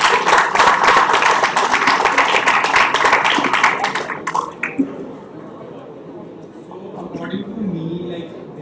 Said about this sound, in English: clap for these guys